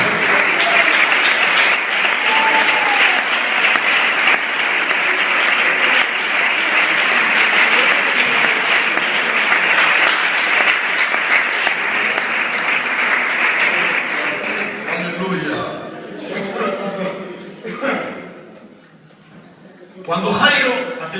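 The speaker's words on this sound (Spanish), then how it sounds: "¿Cuántos de aquí están dispuestos a dar un aplauso fuerte al Señor?" A church congregation applauds loudly, a dense, steady clapping that fills the room for about fifteen seconds before thinning into scattered claps, a lull and a final brief burst.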